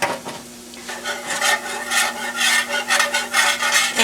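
A metal whisk scrapes and stirs flour into oil in a pan for gravy, a rhythmic rasping swish repeating quickly and close up, with a faint sizzle beneath.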